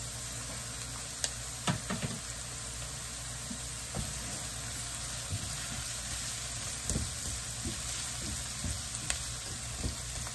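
Ginger dropped into a pan of frying pinakbet sizzles in a steady, close hiss, with a few sharp crackles and pops and faint stirring knocks scattered through.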